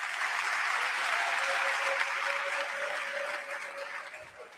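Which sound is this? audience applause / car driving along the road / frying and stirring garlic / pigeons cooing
audience applause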